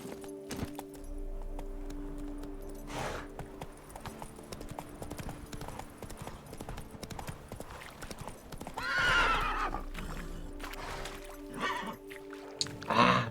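Horse in the video game The Witcher 3, hooves clip-clopping steadily at close range with a whinny and snort partway through, set against game ambience and a low musical hum.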